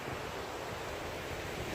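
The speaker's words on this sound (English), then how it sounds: "We passed by this little creek" Small mountain creek beside a closed gravel trail at Mt. Rainier, a steady broadband rush of flowing water with no breaks, close and fairly loud, with a little wind noise on the microphone and no voices.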